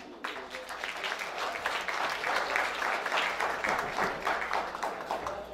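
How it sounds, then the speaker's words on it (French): A crowd at a memorial tribute applauds steadily, dense clapping from many hands sustained for several seconds at moderate volume, with no voices over it. "Je demande à tout le monde pour respect, je demande un applaudissement pour Pedro Lorki"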